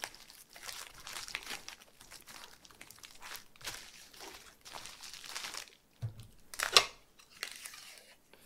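Foam fruit wrapper mesh being twisted and crinkled into a sculpture, giving faint, uneven crackling and rustling bursts close by, with a few sharper crunches near the end.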